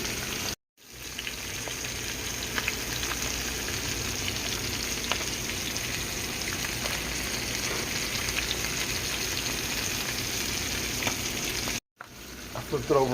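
Trout frying slowly in a pan on medium heat with pepper, lemon and seasoning, a steady close sizzle with fine crackles that runs continuously, broken by two brief gaps.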